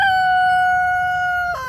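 A single drawn-out crow from a juvenile backyard rooster, loud and close: a steady, reedy held call that breaks off into a ragged cluck at the end.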